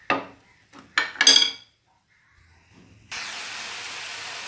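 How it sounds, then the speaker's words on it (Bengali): Spiced chicken going into a hot pan: a few sharp clinks of utensils against cookware, a short pause, then a steady close sizzle of frying that continues to the end. "মশলা মাখানো চিকেনগুলো একটু ভাজা ভাজা করে নেব"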